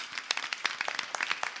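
A church congregation at a Sunday service applauds, with scattered individual claps and a faint crowd wash at moderate distance and low level.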